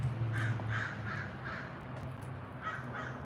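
Crows call outdoors in a series of about seven harsh caws with short gaps between them, moderately close and clear over a low background hum.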